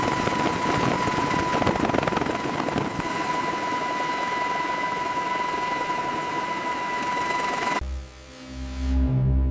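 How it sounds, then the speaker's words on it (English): A helicopter lifts off from an aircraft carrier deck, its rotor wash rolling across the deck; a loud, steady rotor and engine roar with a constant whine holds throughout, then cuts to a deep low rumble near the end. "Rotor wash rolls across the deck as it lifts off to observe from a low offset position."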